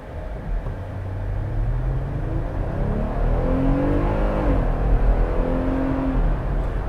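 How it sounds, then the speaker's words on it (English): A 2020 Jeep Gladiator EcoDiesel truck makes a moderate acceleration run from a stop. The engine note rises steadily through the gears and is heard alone, not especially loud. "I'm gonna do a slight acceleration run really quick"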